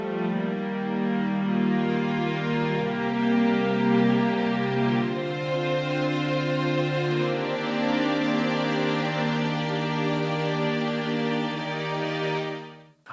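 Sustained string patch from a free keyboard plugin, with layered harmonic notes holding and shifting chords for about twelve seconds, steady and fairly loud before a quick cutoff, with no talking.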